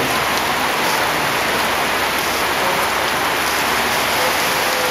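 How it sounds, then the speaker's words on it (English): Heavy typhoon rain pours down in Quezon City, Philippines, a dense, unbroken hiss of drops drumming on surfaces, loud and constant with no voices. "As you can hear, it's raining a lot."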